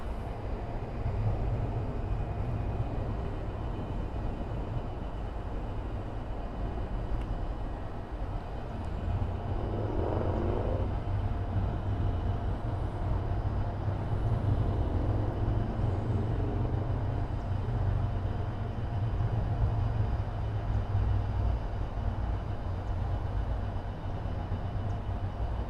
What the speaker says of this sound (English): American Airlines A319 from Jacksonville, not too far away from here.